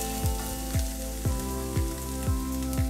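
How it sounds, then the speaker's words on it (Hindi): Finely chopped onion sizzles steadily in hot oil in a pan for palak paneer, a close, continuous frying hiss punctuated by regular low thumps recurring about every half second. "और अब मैं इसके अंदर डाल दूंगी एक बारीक कटा हुआ प्याज"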